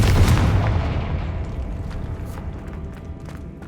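A Confringo fire explosion spell in Hogwarts Legacy lands as a loud, booming blast that opens the clip and rolls into a dense, rumbling crackle of fire and debris, slowly thinning over a few seconds with no talking.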